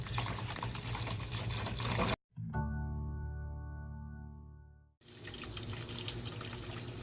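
Warm water running from a faucet onto cilantro seeds to soak them, a steady close stream that stops briefly with a short pause before flowing again.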